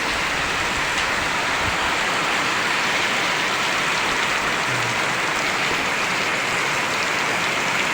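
Heavy rain pours down steadily and loudly on a farm, a dense constant hiss with no break or voices.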